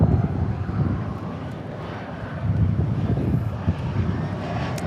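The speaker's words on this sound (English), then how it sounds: "So here's our E175 from Fargo." An Embraer E175 airliner at DFW airport, a continuous low broadband engine roar with some wind buffeting, steady and moderately loud throughout.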